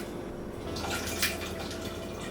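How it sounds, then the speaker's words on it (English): Boiled, pulped rhubarb and ginger mix is poured from jugs onto muslin for homebrew cider, making a steady watery splashing and trickling with a few drips, close and continuous, without talk. "So we're just pouring the jugs in on top of the muslin."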